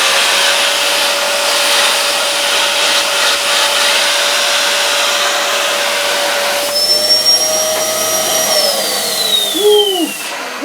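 A Rowenta Tonixo cylinder vacuum cleaner runs with suction, a steady loud airy whine and rush that holds for several seconds, then shifts pitch as the airflow changes near the end.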